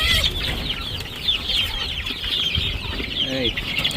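Chickens cluck on a backyard poultry farm in Jaffna where dozens of chicks are kept, their calls steady and close over a busy high-pitched bird chorus, with no talk during the sound.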